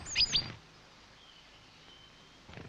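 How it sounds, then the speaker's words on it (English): A mixed flock of tits gathers at a free food handout in snowy winter woodland. Bursts of thin, high chirps come at the start, then a long quiet lull, and a few faint calls return at the end. "a mixed flock of tits who've been lucky enough to come across a free handout"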